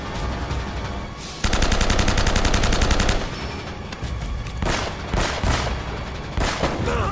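AK rifle fire in Uncharted: Drake's Fortune, a loud sustained automatic burst followed by further short bursts and single shots, close and dominant with no talk.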